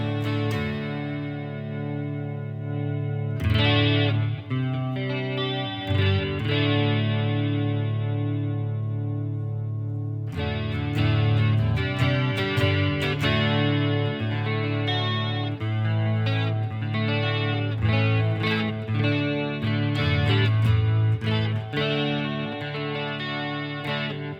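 Electric guitar on the neck pickup run through effects, with distortion and chorus shimmer: sustained chords and ringing notes, then a busier stretch of picked phrases, loud and continuous with no talking.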